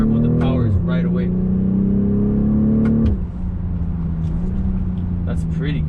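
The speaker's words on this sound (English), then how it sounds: "the second I press on the gas, there's no turbo. The power is right away." A 2020 BMW X6 40i M Sport's turbocharged engine accelerates hard, recorded from the cabin: a loud, rising engine note that drops at two gear changes, then pulls steadily again.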